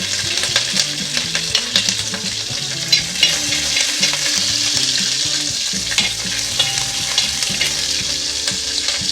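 Four green chillies and curry leaves sizzling in hot oil in a pan, a loud continuous crackling sizzle with frequent small pops and stirring clatter, close and steady, no talk.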